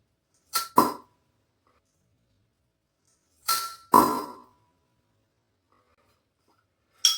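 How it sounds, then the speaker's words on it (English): A swing-top stubby beer bottle, a Brauwerk Baden Jubiläumsbier Export Hell, is popped open in sharp, close bursts: two quick clicks near the start, a louder double pop a few seconds later and one brief snap at the end, with quiet gaps between. "Let's pop this swing top bottle, which I always love doing."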